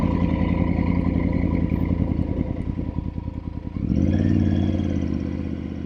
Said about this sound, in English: This is a very tempting motorcycle.